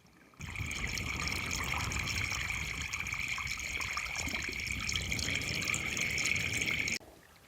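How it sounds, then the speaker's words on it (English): Water trickles and hisses out of a line being bled to push out trapped air, outdoors at a fence-building site. The steady flow starts abruptly, runs evenly for several seconds at moderate level, then cuts off sharply. "You can hear that water."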